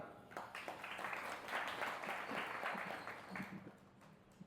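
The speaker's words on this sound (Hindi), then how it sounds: "बजाओ ताली" Audience clapping along at a devotional Bhagavad Gita talk, a steady sustained patter of many hands that fills the room for several seconds before tapering off.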